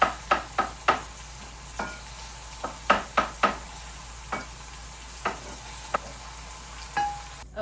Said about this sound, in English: Okay, the pork shoulder is seared now